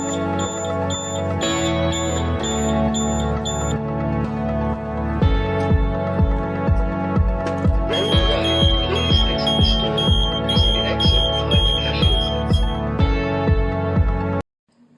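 A Wanzl Technoport store exit gate alarm sounds continuously, a loud, steady electronic tone that shifts into a harsher pulsing pattern midway and then cuts off abruptly, with no talking.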